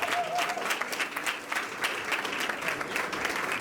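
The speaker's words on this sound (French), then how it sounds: "on va applaudir encore une fois de plus." Steady applause from an audience at a New Year and back-to-school ceremony, many hands clapping in a dense, even patter that holds at a moderate level through the whole moment.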